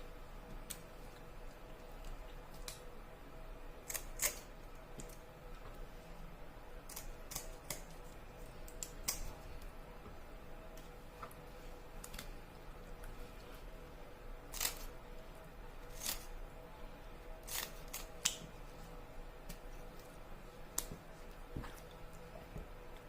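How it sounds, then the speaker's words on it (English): Sharp snipping clicks of scissors cutting the gills from catfish, scattered irregularly and fairly close, over a quiet steady background. "I'm going to go in with my scissors and cut out the gills."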